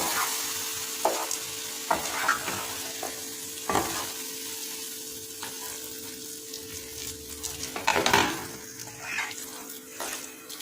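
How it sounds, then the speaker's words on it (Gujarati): Pav bhaji mixture being stirred in a pan over a medium gas flame, with a steady sizzle and repeated scraping clatters of the spoon against the pan, close and moderately loud, no talking. "હવે ગેસ મીડિયમ કરી દઈશું અને તેને મિક્સ કરી લઈશું."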